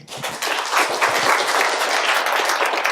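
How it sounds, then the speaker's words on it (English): An audience claps in sustained, dense applause at a business talk on time management. It swells quickly and stays loud and even throughout, with no voices over it. "Round of applause, great job."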